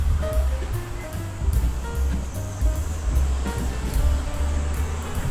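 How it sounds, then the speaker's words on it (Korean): Water rushing steadily through a mountain valley stream near a campground, a loud continuous broadband roar with surging swells and no voices. "오, 벌써 물소리가 들리는데요?"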